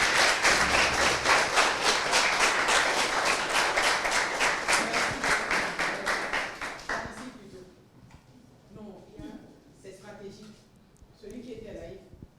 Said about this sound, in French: on va applaudir encore plus fort pour le remercier